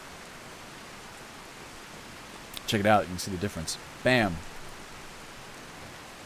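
Rain in the Skyrim video game falls as a steady, even hiss from start to finish, with a voice talking briefly over it in the middle.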